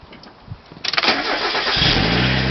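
A car engine cranks with rapid pulses, catches, and settles into a loud, steady idle up close.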